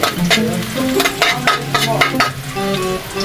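Garlic sautéing in hot cooking oil in a pan, a loud close sizzle and crackle with brisk stirring scrapes over a short stretch, no voices.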